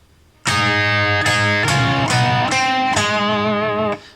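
An overdriven electric guitar plays a short solo phrase, five or six sustained, distorted notes with bends and wavering vibrato, loud and up front with no voices.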